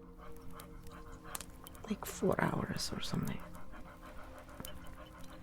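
A dog pants in quick breathy bursts near the microphone, loudest in the middle, while a person talks quietly alongside it.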